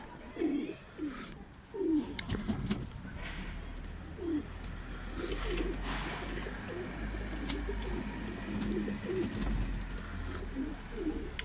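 Yanar döner pigeons coo repeatedly nearby in a loft, with soft rhythmic coos recurring every second or so. Flutters, clicks and faint background noise mix in throughout.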